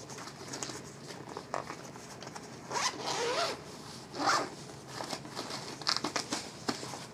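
A zipper on a wheelchair seat cushion cover is pulled open in short close rasps, with crinkling fabric and handling noise around it.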